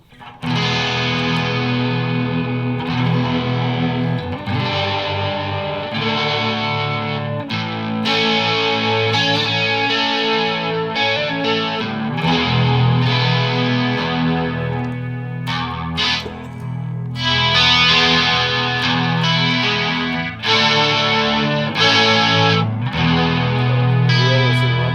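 A synth runs through an effects unit adding detune, giving thick, wobbling, slightly distorted sustained chords and notes, loud and continuous with brief dips, and no voices.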